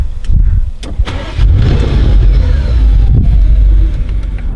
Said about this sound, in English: Audi RS6. I mean, what an incredible, iconic beast of a machine.